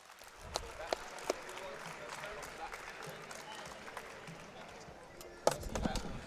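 Crowd applause for Europe's strongest man under 105 kg at an official strongman games event, a steady broad wash of clapping with a few sharp peaks and a louder swell near the end, under a commentator's voice.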